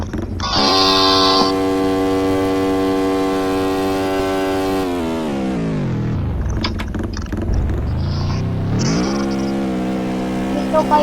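A motorcycle engine in the Roblox game Drag Drive, droning steadily at high revs, then winding down low before revving back up, loud and close throughout.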